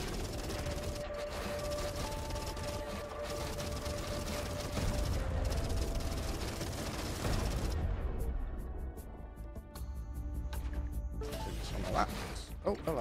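Spaceship cannons fire during a space combat battle in Everspace 2, a steady run of rapid gunfire and impact crashes with game effects, while someone talks over it.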